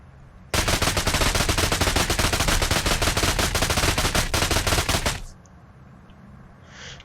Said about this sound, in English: His 3rd ability is an AoE, and it's called Spread Shot, and this one's actually pretty sweet.